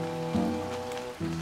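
Rain falls steadily in the video game Candle, a soft, even patter layered over sustained musical tones that shift chords twice.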